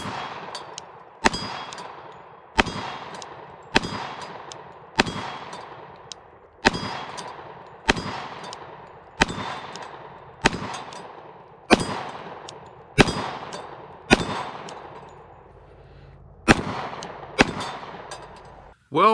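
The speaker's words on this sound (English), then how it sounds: "let's shoot some steel here" Around fifteen evenly spaced pistol shots from .45 ACP reloads, each sharp crack followed by a ringing clang as the bullet strikes steel targets outdoors; loud and steady with a short decay after every hit.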